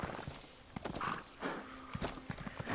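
Horse hooves clip-clop at a walk in Elder Scrolls Online, a few irregular steps close by with a brief whinny-like tone in the middle, heard alone without talk.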